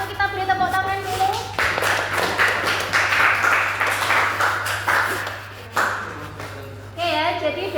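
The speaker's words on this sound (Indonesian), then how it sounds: "Kita beri tepuk tangan dulu." Students in a classroom clap for the first presentation group in a brief burst lasting several seconds, with a teacher's voice speaking before and after the clapping.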